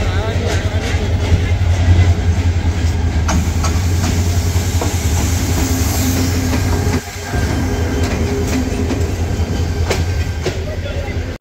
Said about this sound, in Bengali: ঢাকাগামী জয়ন্তিকা এক্সপ্রেস শ্রীমঙ্গল রেলওয়ে স্টেশনে এসে হাজির হয়ে গিয়েছে